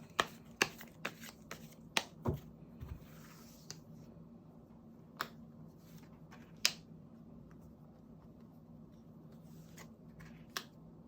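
Tarot cards shuffled and dealt out, a quiet papery patter broken by sharp snaps as individual cards are laid down or flicked, close and soft throughout.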